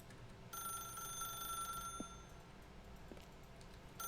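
A telephone rings in the video game The Stanley Parable, a faint electronic trilling bell that sounds for a little over a second amid low background hum, then a few soft clicks.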